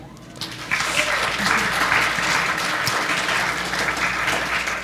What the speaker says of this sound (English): Give Haynes a big clap.